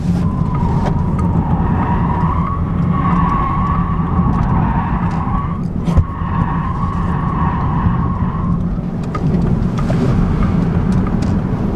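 A 2024 Mini Cooper SE's tires squeal while cornering, a sustained high whine over loud road and wind roar from inside the car, breaking briefly midway and returning.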